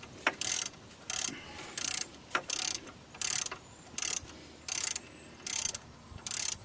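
A ratchet runs a bolt into a front brake caliper on a 2001 Chevy Astro, giving about eleven quick, evenly spaced clicking bursts, close up and with no talking.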